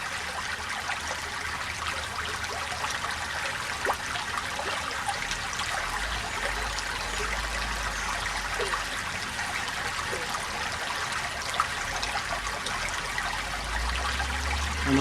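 Steady broadband rush of flowing stream water at the head of the Nanticoke's east branch, continuous and fairly close, with a low rumble underneath and no voices.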